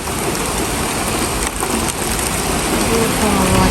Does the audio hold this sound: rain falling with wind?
yes